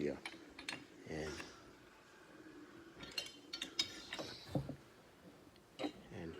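Screw puller being turned by hand to draw a bearing out of its housing: quiet, irregular metallic clicks and creaks of the threaded screw, with a person talking nearby.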